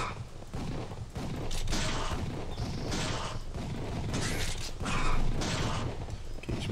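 Rapid shooting in the Moorhuhn Xtreme game, a dense run of sharp mechanical gunshot cracks and clicks firing in quick irregular bursts, fairly loud throughout with no talking.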